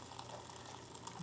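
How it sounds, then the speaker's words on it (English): Hot water pours steadily from an electric kettle into a cup or teapot for tea, making a soft, continuous close-up stream that stays even throughout, with no voices. "I'm going to pour water until it hits the top of that rim"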